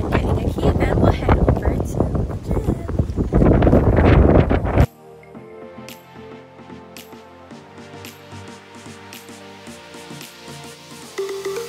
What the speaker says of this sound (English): today is like really windy